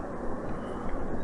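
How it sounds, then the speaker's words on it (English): Steady low rumbling roar of an airplane passing overhead, continuous and fairly faint, with no other sounds standing out. "That's a plane."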